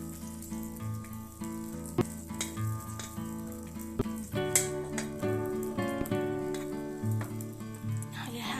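Vegetables and meat stir-fried in oil in a home kitchen pan, with a steady bed of sizzling, scattered sharp clatters and a few louder knocks, while soft music or background sound runs underneath.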